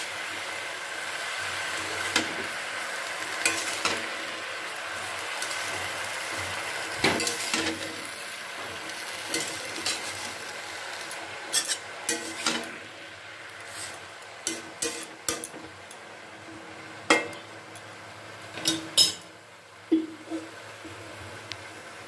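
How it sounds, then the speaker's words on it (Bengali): Gourd greens and mixed vegetables are stirred together in a pan, starting as a soft steady sizzle and becoming a run of scattered spatula scrapes and knocks against the pan, fairly close but faint. "এবার শাকের সাথে সমস্ত সবজিগুলোকে আমি মিশিয়ে দিচ্ছি।"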